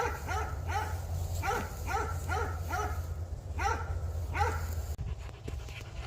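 A dog barks in a rapid, rhythmic series of sharp calls during frisbee play outdoors, fairly close, over a steady low hum.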